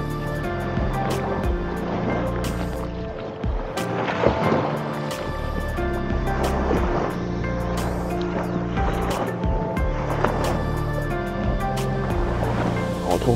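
Surf rolling onto Pattaya beach in Thailand, a continuous wash of breaking waves swelling and receding in slow cycles, with wind buffeting the microphone and a faint voice in the background.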